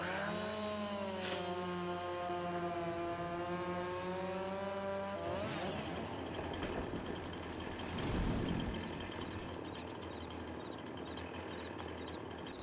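A chainsaw in Farming Simulator 22 revs through a steady, whining tone, then bites into a tree with a rougher, louder cutting roar that swells and fades, heard alone with no talk.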